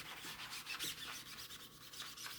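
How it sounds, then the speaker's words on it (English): A board eraser scrubs back and forth across a wooden sign board, a soft, close rasping rub repeating in quick strokes, faint and alone. "And all I'm doing is I'm scrubbing that with the board eraser."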